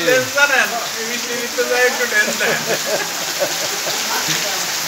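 Heavy rain pours down in a steady, dense hiss during flooding, with someone talking close by over the downpour.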